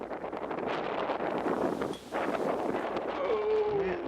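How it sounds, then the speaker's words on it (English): Gusty wind blowing across an outdoor disc golf course at Belmont Park in Dayton, Ohio, a steady roaring rush buffeting the microphone, with a brief lull midway and a faint tonal whine near the end. "Oh, Man, look at that wind."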